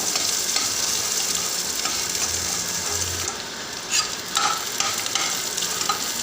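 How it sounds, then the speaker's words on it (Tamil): Sliced onions stir-fried in a pan for vatha kuzhambu give a continuous sizzle, with a spatula scraping and clinking against the metal at close range and no talking. "இந்த வெங்காயத்தை போட்டுக்கலாம் கொஞ்சம் நல்லா ஒன்று போல் ஃப்ரை பண்ணி விடுங்க நல்லா கிளறி விட்டுக்கிட்டே இருங்க"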